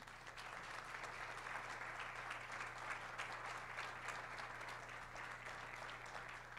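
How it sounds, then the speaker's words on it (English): Audience applause for panel speakers at a higher-education innovation panel, a faint, steady patter of clapping over a low hum, without talk. "I'll ask another applause for our speakers"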